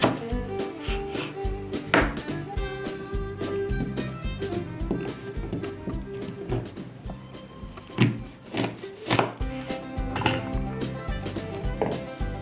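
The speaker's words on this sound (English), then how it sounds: "we're going to take some red onions and cut them into pieces as well" Red onions being cut into pieces with a knife on a board for kebabs make a run of quick, crisp chopping taps beneath music.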